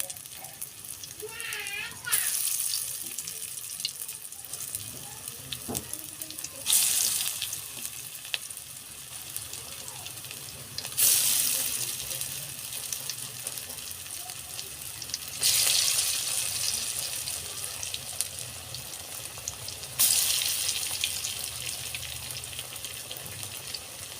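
Fritters (bora) frying in a hot wok give a steady, close sizzle throughout, with louder bursts of crackling roughly every four to five seconds as pieces are added or turned.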